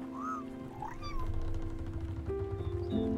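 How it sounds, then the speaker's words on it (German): A cat in the video game Spiritfarer lets out a few short, clear meows over a soft ambient backdrop of sustained tones. "Da sehen wir die Katze, wie sie spielt."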